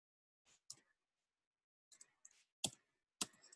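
Separate bursts of clicking from a computer keyboard during a device-use session, sparse and close, with gaps of silence between short clusters of keystrokes and no talking.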